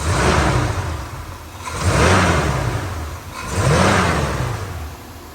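A 1974 Chevrolet Chevelle Laguna S3 with headers, glass pack mufflers and true dual exhaust revs three times in a row, each rise and fall close and loud with a deep throaty rumble, and no voices.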